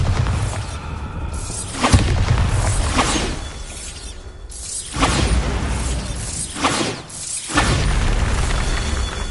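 Bombarda spell explosions in Hogwarts Legacy: several loud, shattering blasts with whooshing bursts, spaced a few seconds apart over a busy rumbling background.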